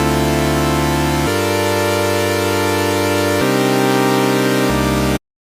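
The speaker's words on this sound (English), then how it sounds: "we are playing this chord progression for future bass" Sustained future bass chords from the Serum software synthesizer on its init preset, four held chords changing one after another, bright and loud, ending abruptly.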